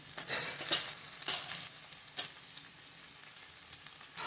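Quiet scraping of a spoon stirring tomato, chilli powder and coriander-cumin powder in a pan for okra curry, a few sharp strokes early on, then a soft, faint sizzle underneath.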